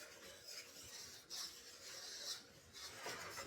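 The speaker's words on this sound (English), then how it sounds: "Now it says to whisk until it's thick." A whisk scrapes and rasps through evaporated milk stirred into mac and cheese in a pot, a continuous faint scratchy stirring with slight rhythmic surges, close but quiet.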